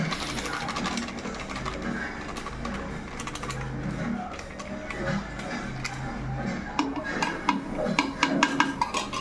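Mutton biryani being stirred with Aachi biryani masala in a pot, heard as steady scraping and clinking of a spoon against metal, continuous and close, with louder knocks toward the end.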